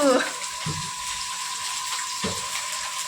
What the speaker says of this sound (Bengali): প্রচুর চিকেনটা ধোয়া হচ্ছে